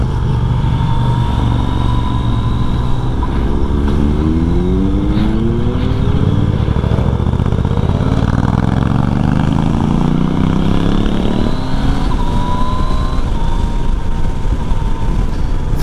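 A Yamaha Tracer 900 GT motorcycle engine drones steadily up close while riding, its pitch climbing and falling through gear changes, loud and continuous throughout.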